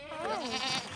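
A single goat on a hilly green Texas ranch gives one wavering, nasal bleat, close and clear, with no talking.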